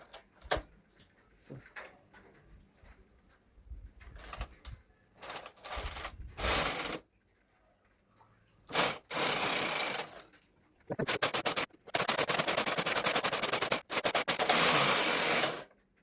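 A home knitting machine runs its carriage across rows, giving loud, rhythmic mechanical whirring passes, several seconds each, separated by brief pauses with lighter clicks and clunks.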